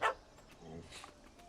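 A puppy in The Witcher 3: Hearts of Stone gives a short, high yip bark at the start, then softer whimpering sounds under a voice talking.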